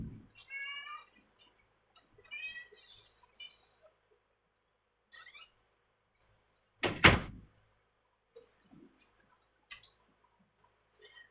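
A cat meows repeatedly at a door to be let in, a few clear calls early on, then a loud single knock or thump at the door, followed by scattered faint sounds in an otherwise quiet room.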